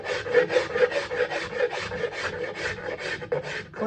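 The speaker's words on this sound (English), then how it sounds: "So it's almost more aggressive than that coarse Nicholson rasp, but leaves a better, smoother surface" Hand-punched wood rasp filing the rim of a wooden bowl, a steady series of close, rhythmic rasping strokes, roughly three per second, with nothing else heard.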